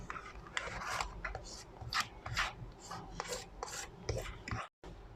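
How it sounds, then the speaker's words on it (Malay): A steel wire brush scrubs a metal workpiece clean before gas welding, producing repeated harsh rasping strokes in an uneven rhythm, close and fairly loud. "bersihkan permukaan logam dan bahan kerja menggunakan berus"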